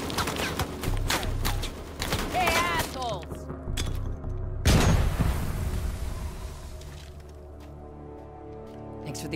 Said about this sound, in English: Nothing quite like a frag to cause offense.